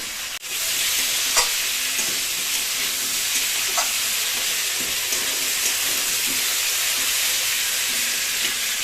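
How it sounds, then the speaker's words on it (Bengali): Desi chicken meat frying in a pan makes a continuous close sizzle and hiss, with occasional soft scrapes and clicks from stirring, and no voices over it. "আমরা খুব সুন্দর করে আবার একটু ভালো করে ভেজে নিচ্ছি"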